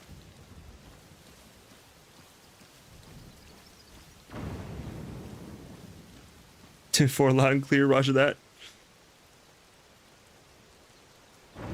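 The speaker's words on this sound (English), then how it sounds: "Except it's raining." Rainfall in the video game The Legend of Zelda: Tears of the Kingdom, a soft steady hiss that swells louder midway, with a person speaking briefly over it before it quiets again.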